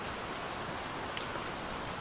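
Steady, dense rain falls continuously with an even hiss and scattered droplet patter, heard alone with no voices.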